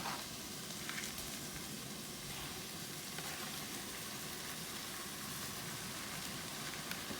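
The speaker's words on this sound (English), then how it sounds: "all these vegetables have been sauteing in here for a couple of minutes more" Zucchini and other vegetables saute in a pan for vegan tomato pasta, giving a steady soft sizzle that runs throughout with occasional faint stirring.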